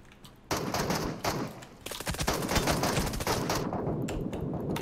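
Gunfire in PUBG Mobile: a quick burst of shots, a pause, then dense rapid automatic fire that carries on loud and close to the end.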